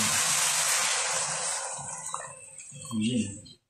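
Water pouring into a cooking pot for a sinigang-style fish soup, a loud splashing rush that fades after a couple of seconds, followed by a short burst of bubbling or stirring.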